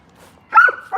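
A dog barking on an outdoor walk, a single sharp bark followed by a shorter second yap, close and loud against a quiet background.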